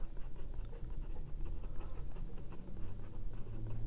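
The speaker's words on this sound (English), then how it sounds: "Let me write all of this and then show you because it's easier." A Rotring 600 fountain pen with an extra fine nib and blue ink writes on planner paper, giving continuous close, fine scratching strokes with a light irregular rhythm.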